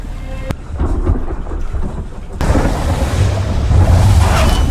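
A movie thunderstorm roars with heavy rain lashing down and deep rumbling thunder, loud and close, with the downpour getting denser and heavier partway through.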